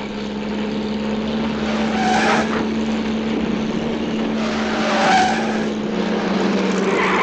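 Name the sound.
car driven by a washerwoman, skidding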